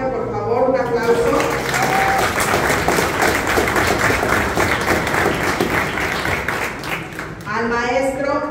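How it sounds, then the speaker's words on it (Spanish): A crowd at an office inauguration breaks into sustained, loud applause for the presidium, steady for several seconds before a voice speaks as the clapping fades. "Por favor, un aplauso."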